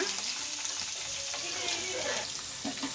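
Onion frying in oil in a pan with chana and urad dal, a soft sizzling hiss with faint stirring clatter over a few seconds.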